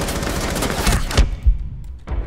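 Desert Eagle pistol shots in Rainbow Six Siege, a rapid loud volley of several cracks close together, followed by a short quieter pause and one more burst near the end.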